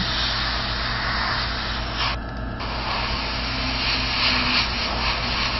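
A blow dryer runs steadily, drying paint on a miniature model, a loud continuous airy whoosh with a short dip midway.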